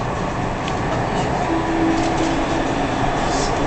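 Steady rumble and rolling hum from inside a Dubai Metro train in motion, continuous and fairly loud, with a brief tonal whine midway and no speech.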